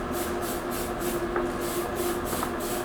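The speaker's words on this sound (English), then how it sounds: "Alright, so I'm going to spray this primer." A continuous aerosol hiss of primer from a spray can onto a Hasegawa Lancia Stratos HF Stradale model kit, with a pulsing rhythm as if sprayed in short sweeping passes, fairly close and loud, with no talking.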